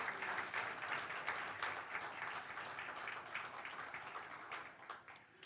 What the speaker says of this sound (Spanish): Dale un aplauso al Espíritu Santo.